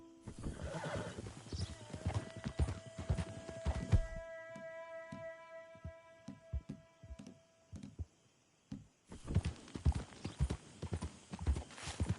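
A horse's hooves clip-clop along in Red Dead Redemption 2, a close, rhythmic trotting patter with a whinny, then a stretch of ringing tonal game sound before the hoofbeats return.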